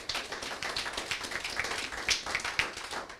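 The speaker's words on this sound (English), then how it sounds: "kindly let's all applaud Mr. Abdullahi Mohammed, Ms. Stephanie Washira," Audience claps for an interviewing panel at a parliamentary aspirants' debate, a moderate scattered applause of many hands, fairly quiet and steady with no talk.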